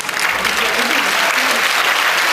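A concert audience in Bergerac applauds Thomas Hernandez, the opening act, with steady, dense clapping that fills the room for the whole stretch.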